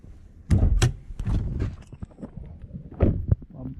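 Door of a 2011 Nissan Maxima opened, then the hood release popped, heard as a series of close, loud thunks and clicks over about four seconds, with a stronger pair of knocks near the end.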